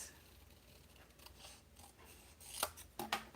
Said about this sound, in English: for the bottom of the dress, we need to, I think, just cut it right here at the legs.